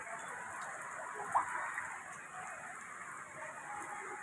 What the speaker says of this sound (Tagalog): pagbagsak ng ulan